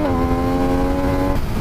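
A three-cylinder naked sport motorcycle engine that revs to 15,000 RPM holds a loud, steady droning note, then its pitch drops near the end, with no talking over it.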